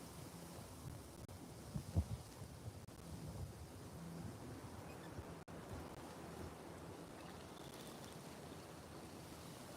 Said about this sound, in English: It is so incredibly windy out here